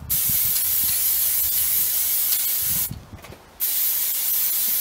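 Aerosol spray paint coats a set of bicycle forks during a budget restoration, a close, loud continuous hiss with small sputters, cutting out briefly near the end before the spraying resumes; no one speaks.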